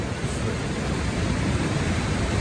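Steady broadband rushing of a river in a scary camping video game, a constant noisy wash that is fairly loud and even throughout, with no voices.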